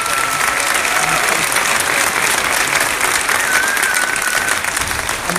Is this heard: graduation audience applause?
yes